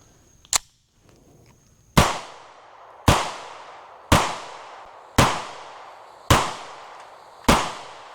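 Six loud, sharp gunshots from a CZ Shadow 2 Carry pistol, fired at an even pace about a second apart, each with a short ringing decay, after a small faint pop near the start.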